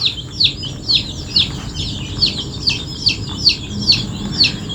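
Chickens cluck close by during vaccination against fowl pox, in a quick, repeated pattern of sharp calls, with a low rumble of background noise underneath.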